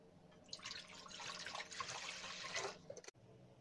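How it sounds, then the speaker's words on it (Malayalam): Water is poured into a metal pot set on the stove for steaming idli, a soft, fairly quiet splashing stream lasting a few seconds before stopping abruptly. "അതിലേക്ക് ആവശ്യത്തിന് വെള്ളം ഒഴിച്ചു കൊടുക്കാം."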